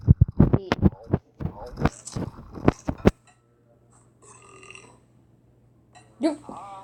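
A cartoon character burps in the Toca Kitchen cooking video game, a series of short loud voiced bursts in quick succession, followed by quieter electronic game sounds and a brief closing chime.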